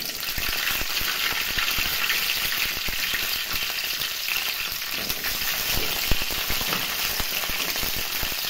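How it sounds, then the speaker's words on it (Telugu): Green chillies frying in oil in a kadai, a dense, constant crackling sizzle close up that holds steady the whole time with no voices. "ఇప్పుడు అదే కడాయిలో కొంచెం ఆయిల్ పోసి పచ్చిమిర్చి వేసుకుందాం."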